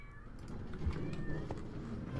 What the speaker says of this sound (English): my kitten is meowing because I've closed the door this time